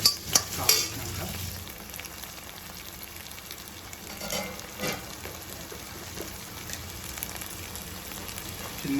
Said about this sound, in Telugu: వేసుకొని మంచిగా ఫ్రై చేయాలి. కొంచెం ఫ్రై అయిపోతుంది.